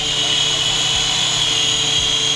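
A voice-controlled RC attack helicopter flies with a loud, steady high-pitched rotor and motor whine, droning continuously and close by with no talking.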